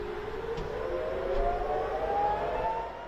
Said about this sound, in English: sirens blared in Haifa, the Galilee and the Golan Heights